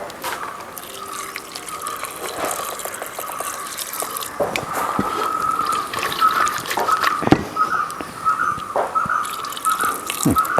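Water runs and splashes into a cooking pot, a steady close trickle with drips and small splashes that slowly grows heavier and fuller over several seconds, with no talking.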